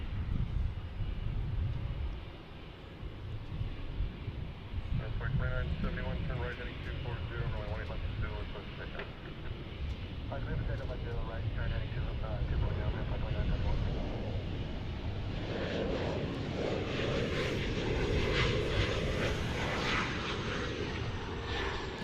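An American Airlines heavy jet lines up for takeoff at Dallas Fort Worth airport, its engines a steady, loud broadband roar that swells in the latter half, with faint voices in the background.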